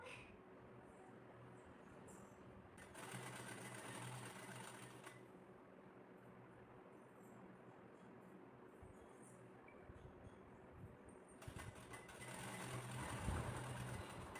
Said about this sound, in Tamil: அதை ஒரு மடிப்பு மடித்து அதுக்கு மேலேயே படிமான தையல் மாதிரி அது மேலேயே அப்படியே ஸ்டிச் பண்ணி கொண்டு வரணும்